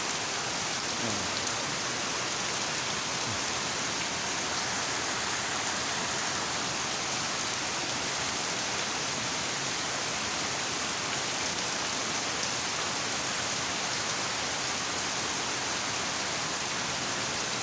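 Heavy storm rain pours onto a house, a dense, continuous roar of water with runoff flowing, loud and unbroken throughout with no voices.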